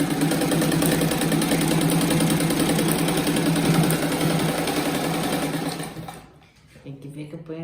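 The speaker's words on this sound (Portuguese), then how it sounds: "Então eu vou passar uma costura para firmar." A sewing machine runs steadily and close, stitching a seam around a patchwork rug made from fabric scraps, its rapid motor hum continuing for about six seconds before stopping abruptly into near quiet.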